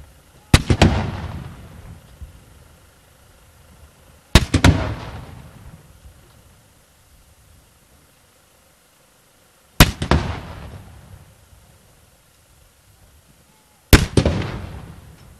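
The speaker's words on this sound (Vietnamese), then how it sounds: "Quốc kỳ Việt Nam được kéo lên cùng lúc với 19 phát đại bác được bắn chào mừng Thủ tướng." Four separate cannon blasts from a 19-gun salute for a prime minister, fired at a welcome ceremony in Australia, each a loud sharp boom followed by a rolling echo that decays over a few seconds, spaced about four to five seconds apart.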